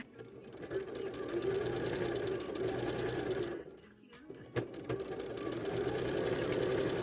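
A sewing machine stitches the side seams of a wrap dress in a fast, steady mechanical whir, close and continuous, pausing briefly midway before running on.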